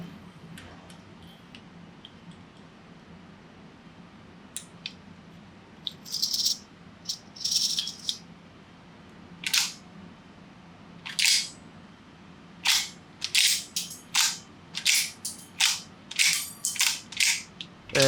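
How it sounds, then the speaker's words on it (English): Snap caps being loaded with a spacer into a Henry 1860 rifle, giving a run of close, crisp metallic clicks and rattles that grows more rapid and regular toward the end. "I'm loading up 3 snap caps with the spacer."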